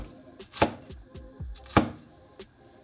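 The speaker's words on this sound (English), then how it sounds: "I've got my pork cutlets. I'm just gonna cut these into little strips." A knife slices breaded pork katsu cutlets into strips on a cutting board, giving two sharp crunchy cuts among lighter taps and scrapes, close and alone.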